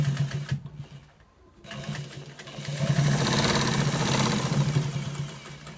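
A sewing machine stitches the lower end part of a white trouser, its hum running steadily, dropping out briefly near the start, then returning louder and continuous to the end.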